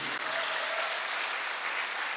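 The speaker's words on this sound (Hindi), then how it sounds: "एक जोरदार तालियां होनी चाहिए" Audience applause, a dense wash of clapping that stays steady and loud throughout the short stretch, with no voices.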